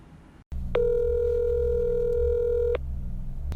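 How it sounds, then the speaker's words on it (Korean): A single long electronic tone rings over a phone line for about two seconds, steady and clear above a low background hum. "현수막에 있는 전화번호로 전화를 해봤습니다"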